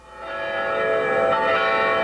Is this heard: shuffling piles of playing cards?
no